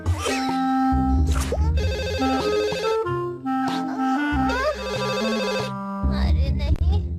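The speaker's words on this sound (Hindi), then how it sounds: "अच्छा हुआ तुमने फोन किया नोबिता" Telephone ringing in a Hindi-dubbed Doraemon cartoon episode, heard as a steady electronic ring loud in the foreground beneath dense cartoon music, with a brief voice partway through.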